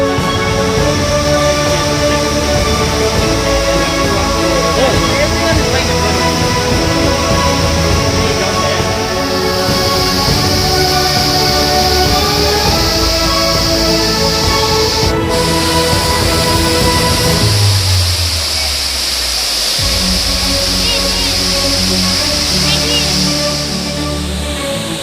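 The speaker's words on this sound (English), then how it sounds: "we reached the first waterfall of the day" Umbyrlein waterfall in the East Jaintia Hills pours with a loud, constant rushing roar of water that stays steady throughout.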